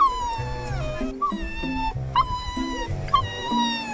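A Jack Russell terrier puppy by the sea whimpers in high, wavering whines with short yips and rising squeals, loud and close, calling repeatedly over a few seconds.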